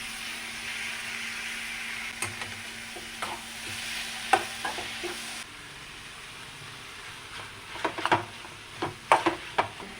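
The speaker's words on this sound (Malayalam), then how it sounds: "ഇനി ഇതിലേക്ക് നമുക്ക് തക്കാളി ചേർത്ത് കൊടുക്കാം." Onions and tomato fry in a hot pan for an egg roast, a steady sizzle under intermittent scraping strokes of a spoon, close and clear, with the sizzle dropping quieter midway as stirring continues.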